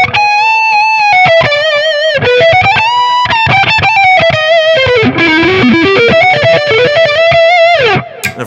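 Electric guitar with heavy distortion on the neck pickup, played as a continuous sustained lead line with bends and slides, loud and close, alone with no talking, ending in a quick descending run.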